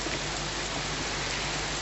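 Torrential rain pours down in a dense, unbroken hiss, loud and steady throughout with no pauses.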